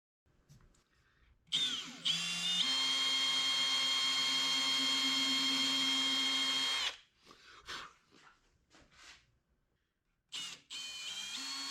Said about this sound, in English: we can drill the indexing holes for gluing the fretboard to the neck